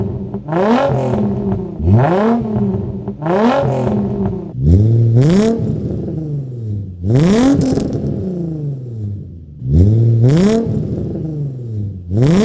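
Nissan 350Z drift car with Flashark test pipes, Y pipe and a single-exit exhaust revs hard in five or six rising bursts, each climbing sharply then dropping back to idle, loud and close with no talking.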